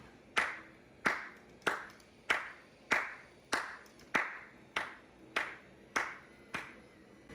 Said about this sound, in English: It may seem stupid to give a robot a clap, but I am so impressed with this robot.